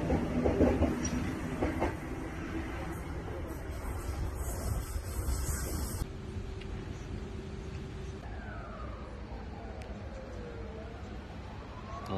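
A train runs along the line with a steady rumble and rattling wheel noise from inside, while faint rising and falling tones drift in during the later part.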